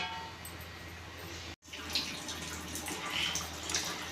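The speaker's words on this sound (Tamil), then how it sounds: "குழம்பு நல்லா கொதிச்சிட்ருக்கு." Bitter gourd tamarind curry (pavakkai kuzhambu) simmers in a covered pot, giving a soft, steady bubbling and gurgling, quiet and close, with a short break partway through.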